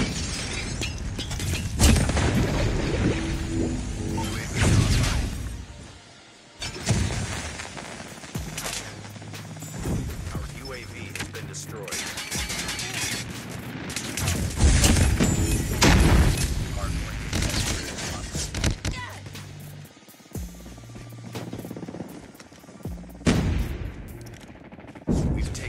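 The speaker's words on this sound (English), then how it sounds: "Laser gun!" Repeated bursts of sci-fi weapon fire from a laser gun in Call of Duty Mobile, loud and close, with brief pauses between volleys and booming impacts amid game effects and announcer voice callouts.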